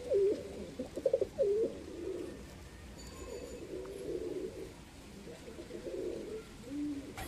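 Lakka pigeons in a home breeding loft coo in soft, repeated throaty bursts, close but fairly quiet, with gaps between calls and no talking.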